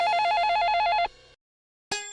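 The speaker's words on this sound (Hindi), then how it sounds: "बेल बज रही" A landline telephone rings in a home with a loud, trilling electronic burst. It stops, and after a brief silence a second ring begins.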